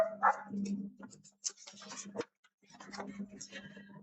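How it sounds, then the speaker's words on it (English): A dog barks sharply a few times, close by, amid speech and the scraping and handling sounds of a gel printing session with paint. "Crazy dog."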